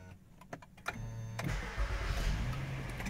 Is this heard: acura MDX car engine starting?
yes